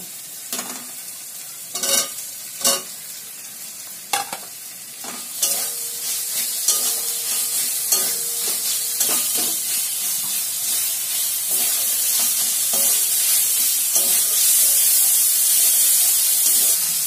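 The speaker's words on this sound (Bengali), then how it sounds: "এবার আমি এই আলু কুচিগুলো দেব।" Chopped potatoes dropped into spiced oil and stirred in a pan while cooking, opening with sharp scraping stirs that give way to a rising, steady sizzle and hiss, close up with no voices.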